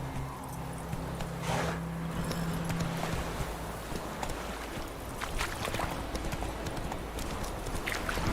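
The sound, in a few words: horse Roach galloping in video game The Witcher 3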